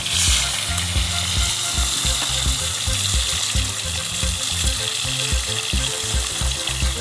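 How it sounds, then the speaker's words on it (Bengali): Continuous crackling sizzle of fish, Katla, frying over a wood fire, with steady popping and spitting close up and a low background rumble. "দেখতে পাচ্ছ মাছ সবাই ভাজা হচ্ছে ভাই"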